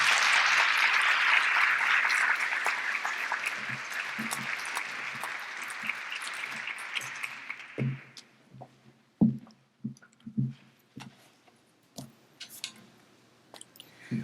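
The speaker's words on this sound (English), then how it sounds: "Please give her a round of applause." Audience applause at an immigration symposium welcoming a guest to the stage, loud and dense for about seven seconds, then fading out into a few scattered claps and small sounds.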